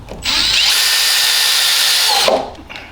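A power drill drives screws into a wooden door frame in one sustained, high-pitched whir lasting about two seconds, close and loud, then stops.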